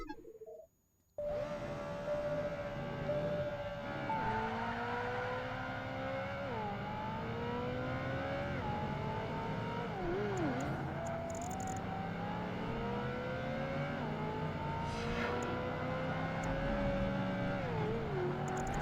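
Super car engines racing in Project Gotham Racing 2, a steady high revving drone with repeated pitch climbs and dips through gear changes, continuous and fairly close after a brief quiet start.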